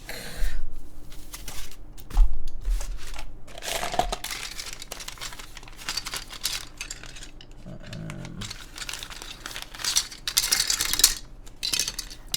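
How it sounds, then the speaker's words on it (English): Mechanical keyboard keys being pressed to test the stabilizers during a Vertex Intro S100 build, a scattered run of clacks and rattling taps over about twelve seconds, close and fairly quiet with no voices. "let's try out our stabs real quick"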